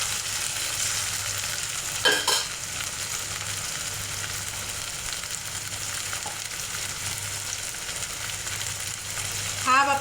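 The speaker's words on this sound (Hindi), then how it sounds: "एक मीडियम साइज का टमाटर काट के रखी थी, वो डाल दे रही मैं इसमें।" A medium-sized chopped tomato hits hot oil in a pan for Dhaba-style moong dal tadka, giving a steady, even sizzle with a couple of brief stirring scrapes.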